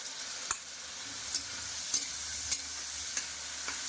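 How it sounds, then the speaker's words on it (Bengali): Steady soft sizzling of spices with a little turmeric and salt frying in a pan, with a few sharp scraping clicks of a utensil stirring at irregular intervals. "তো এই মশলাটা একটুখানি কষিয়ে নিয়ে আসছি"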